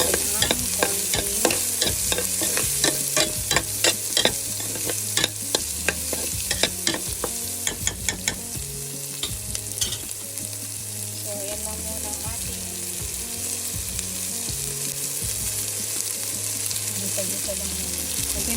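Squash, long beans and eggplant sizzle while being sautéed in a pan, with a run of sharp utensil scrapes and taps against the pan early on, then a steady frying hiss over a low background hum.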